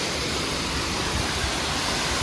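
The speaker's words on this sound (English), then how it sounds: "Very beautiful waterfall over here." Waterfall near the Tiger's Nest monastery in Bhutan, a dense, steady rushing hiss of falling water filling the whole range, loud and unbroken throughout.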